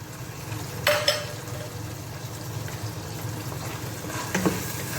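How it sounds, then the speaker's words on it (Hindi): Carrots frying in a pan for egg fried rice produce a steady close sizzle, broken by a couple of brief scraping stirs of a spatula against the pan. "अब हम इसको अच्छी तरह फ्राई करेंगे"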